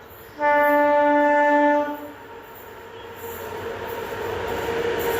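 A loud, sustained train horn blast from the 12485/86 Hazur Sahib Nanded express, then the steady rumble and clatter of the train rolling past nearby.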